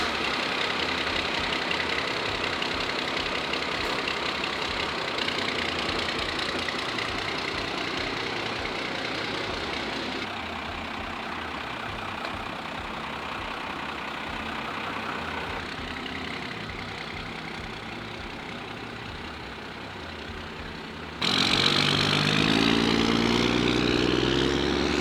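A 1986 Chevy Suburban with a swapped Cummins diesel idles with a steady low rumble, then the engine note shifts and revs up sharply as the truck pulls away near the end.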